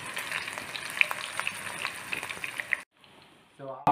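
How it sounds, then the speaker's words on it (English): Sliced shallots frying in a hot pan give a steady close sizzle with small stirring clicks for nearly three seconds, then the sound drops away briefly before a short burst returns. "Add that and let the shallots sort of fry for about 2 minutes."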